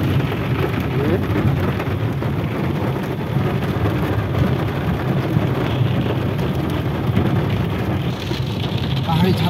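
Heavy rain falls continuously in a Kumaon hill village, a loud, dense wash of drops with a deep low rumble underneath that suggests distant thunder, steady for the whole stretch.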